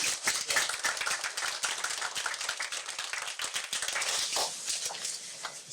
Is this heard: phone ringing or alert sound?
no